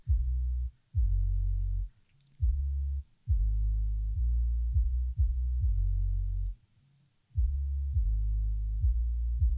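Deep, booming low-end hits repeat in a steady pattern with brief gaps between phrases, an isolated kick drum and 808-style bass from a pop punk mix with nothing else playing.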